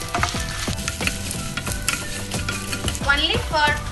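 Whole garlic pods in their skins and dried red chilies crackle and spit in hot oil, close and busy, with frequent spoon scrapes against the pan and no talking.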